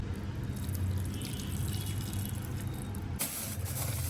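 Water is poured from a mixer-grinder jar onto plants, a continuous splashing, spattering pour close by that runs steadily and then changes character near the end.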